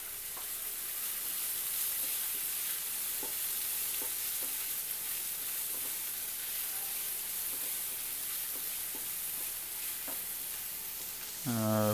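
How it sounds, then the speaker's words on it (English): Onion frying in a pan with chili flakes and oregano for homemade cheese pasta, a steady soft sizzle with scattered scraping taps of a spoon stirring, ending in a short louder clatter. "Fry it for 2 minutes. Stir it well."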